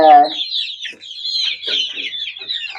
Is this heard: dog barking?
no